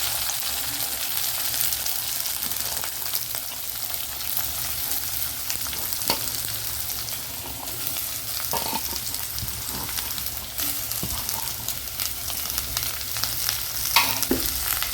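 Green chillies, curry leaves and onion fry in oil for a potato bonda filling, giving a close, continuous sizzle with a few sharp crackles and stirring sounds, no voices.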